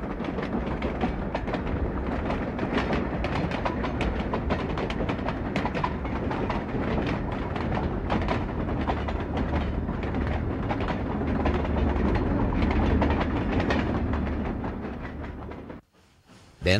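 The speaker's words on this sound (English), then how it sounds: "allow the passage of a long, old northbound freight train" A long, old northbound freight train rumbles steadily past a siding up close, wheels clattering rhythmically over the rails, loud and continuous before cutting off abruptly near the end.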